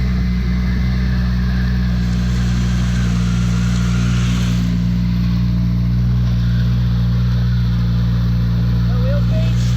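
A Chrysler Conquest engine holds a loud, sustained high rev during a burnout, its steady drone running the whole time with a brief rise in pitch near the end.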